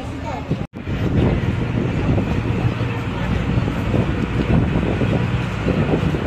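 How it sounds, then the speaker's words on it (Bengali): Tourist boat leaving the shore on the river near Guwahati, heading toward Umananda Temple. A steady low engine drone mixes with wind buffeting the microphone and water wash, loud and continuous apart from one brief dropout near the start. "বোট চলতে শুরু করে দিয়েছে"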